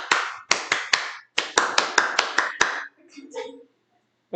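Rhythmic hand clapping in a 3-4-7 pattern: sharp claps in groups of three, four and seven, close and loud, followed by brief faint talk.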